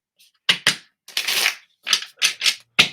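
Tarot cards being shuffled up close in quick riffles and brisk bursts, separated by short pauses, with no talking.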